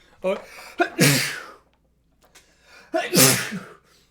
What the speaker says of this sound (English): Storm count 2. Sneeze count 2.